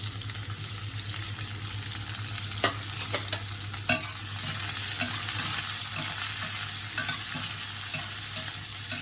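Sliced onions frying in a pan for kofta gravy, a steady close sizzle broken by the scrape and clatter of a spoon stirring, with a low hum underneath and no talking.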